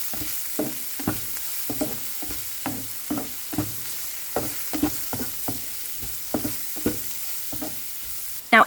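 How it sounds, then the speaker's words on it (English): A spoon stirs rice seasoned with turmeric, salt, pepper and vegetable flavor in a pan, giving a steady run of scraping strokes over a light sizzle, close and fairly quiet with no talking. "and continue on stirring"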